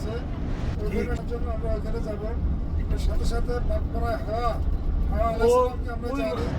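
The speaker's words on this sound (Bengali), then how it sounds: "এখন আমরা বাস ব্যবহার করে জেদ্দার উদ্দেশ্যে রওনা দিয়েছি।" A bus cruising on the Haramain highway (Route 40) from Makkah to Jeddah, a steady low engine and road rumble throughout, with a voice talking over it much of the time.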